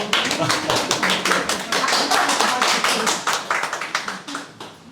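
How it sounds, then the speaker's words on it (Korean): Applause from a gallery audience at an artist talk and exhibition tour, a dense run of many hands clapping close by, steady and loud for about five seconds before easing slightly at the end. "박수 한번 주시죠"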